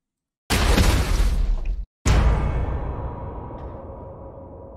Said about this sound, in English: these are more like booms